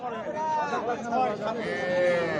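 A goat bleats at Nekmorod cattle market in a few wavering cries in the foreground, with people talking around it.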